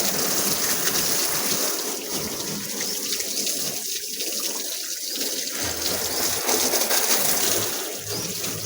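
Water sprays steadily from a hose onto an Ola electric scooter during a wash, a loud continuous hiss with no talking.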